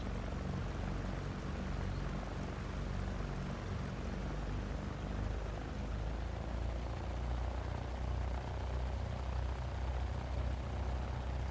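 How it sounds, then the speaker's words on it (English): Steady, even engine drone of a Cessna 172SP taxiing in X-Plane 11, a constant propeller hum with no pauses or talk. "Taxiing right on the yellow line, I like to see that."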